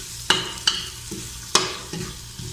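Finely sliced onions sautéing over medium-high heat in a pan for chicken liver adobo, with a soft steady sizzle broken by several sharp spoon strikes and stirring scrapes against the pan.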